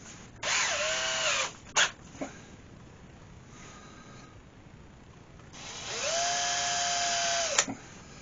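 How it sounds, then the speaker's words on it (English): A power drill whines in two bursts, rising and settling as it bores a small hole in turned wood, separated by quieter pauses and a few clicks and knocks. "I'm going to drill a small hole in the top of them"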